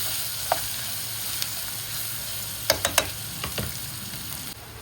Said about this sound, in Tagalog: Hintayin lang natin yung maluto yung balang sibuyas at saka ng ginger.